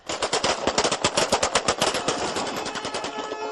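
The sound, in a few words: celebratory machine gun fire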